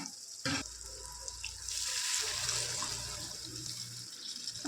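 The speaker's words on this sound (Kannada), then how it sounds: "ನಮಗೆ ಆಲೂಗಡ್ಡೆ ಬೇಯೋದಕ್ಕೆ ಎಷ್ಟು ನೀರು ಬೇಕಲ್ವಾ ಅಷ್ಟು ನೀರನ್ನು ಹಾಕ್ಕೊಂಡ್ಬಿಡೋಣ" Water is poured over potatoes in a pot for dum biryani, with a short splash and then a steady, quiet gushing pour that trails off, heard alone at low volume.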